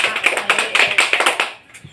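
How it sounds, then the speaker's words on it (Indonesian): A group of children claps hands together in a classroom, a quick run of about a dozen steady, close claps that then stop, with no talking. "ya betul, tepuk tangan"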